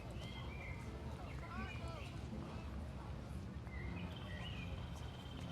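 Birds chirp and call intermittently through an outdoor park ambience in the SimCity video game, set over a steady low rumble of background noise.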